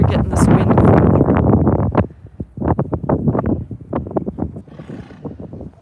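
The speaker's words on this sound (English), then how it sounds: "I don't know if you guys are getting this wind coming through." Wind gusts across the microphone outdoors in a garden near an apple tree, a loud rumbling buffet at first that drops to softer, choppy gusts.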